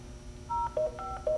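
Telephone keypad tones dialed quickly on a phone, a short run of four or five steady beeps over a low room hum, close and clear with no talking.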